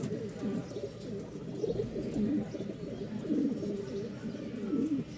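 Pigeons at a pigeon market coo in low, soft, repeated throaty calls, several birds overlapping at close range against a steady murmur of background noise.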